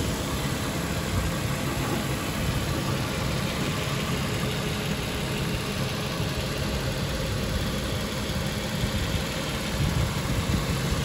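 A 2007 Nissan Pathfinder SE 4WD with a 4.0-liter V6 idles steadily up close, an even, continuous engine drone with no ticking and no voices.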